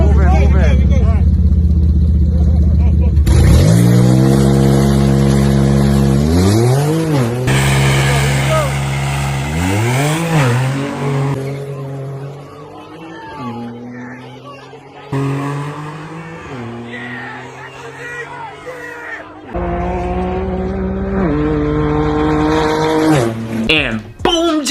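An Infiniti Q50 and a BMW 340i race, with loud engines revving up in repeated rising bursts, gear-change dips and fading passes heard close then farther away, while people talk around them.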